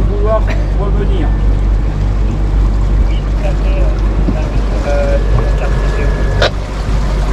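A steady low boat diesel engine drone at about 1500 rpm rumbles throughout, with wind and water noise over it and faint chirps and a tone drifting in.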